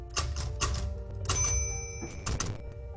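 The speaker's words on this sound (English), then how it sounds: "I would hear the sound of the typewriter." Typewriter keys clack in irregular quick bursts, close and crisp, with a bright ding and a pause before more typing, heard alone without any talk.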